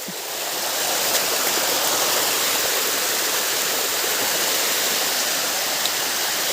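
A waterfall in Mindoro roars steadily as a dense, loud, continuous rush of falling water, close by and alone, with no voices over it.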